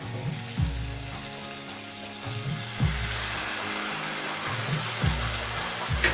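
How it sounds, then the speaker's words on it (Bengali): Masala with cashew paste frying in a pan for a fish curry: a low bubbling sizzle broken by three or four louder scraping strokes of a spatula at regular intervals. "কাজু বাটা দিয়ে মশলাটিকে 1 মিনিট ভালো করে ভেজে নেব।"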